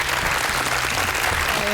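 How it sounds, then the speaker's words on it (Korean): Audience applause at a Korean televised science lecture show, a steady dense clapping from a crowd that fills the whole short stretch evenly without talk. "박수 한번 보내주시죠."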